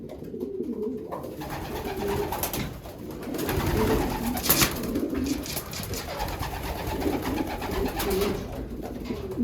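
Pigeons in a loft coo softly and steadily, several birds overlapping in a low rolling murmur, with occasional wing flutters and rustling nearby.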